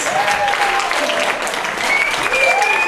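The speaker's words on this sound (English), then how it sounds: "Give her a big round of applause." Applause from an audience at a women's empowerment summit in Northern California, greeting a local businesswoman; steady, dense clapping fills the short stretch at close range, with a few tonal whistles or cheers rising above it.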